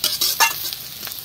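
Rupchanda fish sizzling in hot oil in a pan, a close, crackling hiss with a few sharp spattering bursts over about a second.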